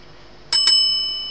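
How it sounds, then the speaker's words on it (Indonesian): Two quick bright bell dings, like a bicycle bell notification chime, ring out close and clear with a short shimmering decay, alone over a faint background hiss. "jangan lupa subscribe dan tekan tanda lonceng"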